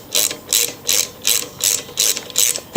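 A ratchet wrench clicks in seven steady, evenly spaced bursts, close and crisp, as it loosens the quarter-inch bolts holding the muffler guard on a Poulan Pro lawn mower. No voices.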